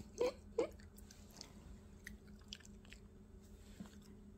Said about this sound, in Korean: 꼬꼬 씹어 먹어야지, 소나야.